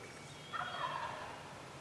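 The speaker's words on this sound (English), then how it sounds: "They should be gobbling." A distant turkey gobble rings out once, brief and faint, over a quiet outdoor background.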